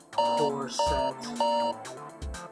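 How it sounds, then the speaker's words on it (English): A bedroom alarm rings as a reminder, repeating bright electronic chime bursts in a steady pattern at moderate volume, with someone speaking briefly at the end. "That was my alarm ringing,"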